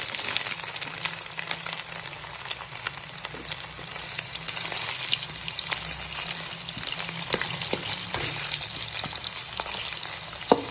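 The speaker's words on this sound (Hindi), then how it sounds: "ऑयल हमारा फुल गर्म हो चुका है। अब हम इसमें करेले ऐड करना है।" Continuous loud sizzle and crackle of bitter gourd frying in hot oil, steady throughout with no talking.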